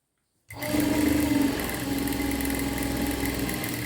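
A sewing machine starts up after a brief silence and runs steadily, stitching fabric with a close, loud, even mechanical whir and hum that continues to the end.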